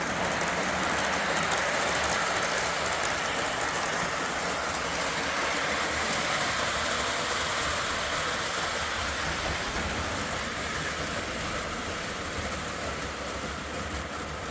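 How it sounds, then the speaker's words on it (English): Lionel model train locomotive running on its track, a steady whirring rumble with faint rhythmic clicking that carries on evenly for the whole stretch, no voices. "That's a good running locomotive right there."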